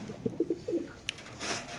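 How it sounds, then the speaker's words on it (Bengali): A large racer pigeon gives a few soft, low, throaty coos in quick succession, faint and close, followed by a brief rustle and light background noise. "বড় সাইজের কবুতর।"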